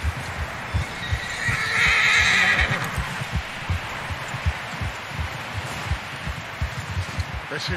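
A horse in the video game Red Dead Redemption 2 gives a loud whinny while its hooves clip-clop in a steady rhythm throughout, with faint rustling around.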